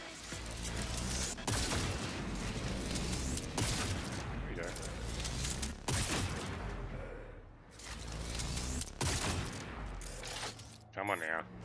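Gunfire in Cyberpunk 2077, sharp repeated shots in bursts with several loud cracks, dense and continuous over the whole stretch, mixed with other game effects.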